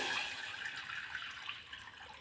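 Water poured into a cooking pot for moong dal khichdi, a continuous close pouring rush that softens slightly toward the end, with no talking.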